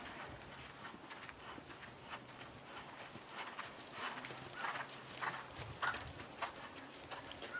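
Hooves clip-clop in quick, uneven beats as a horse canters during a riding clinic at Rancho Alegre, faint and somewhat distant over soft background noise, with no talk.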